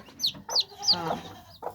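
A few close, distinct clucks and squawks from frizzle chickens in quick succession, loud and alone with no talking.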